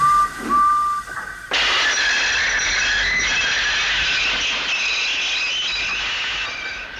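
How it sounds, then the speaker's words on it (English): Engine Edward, a steam engine, strains to start a heavy train at the China Clay Works, a loud steady rush of steam and rail noise that sets in suddenly after a brief quieter lead-in and holds on. "Edward found it hard to start the heavy train"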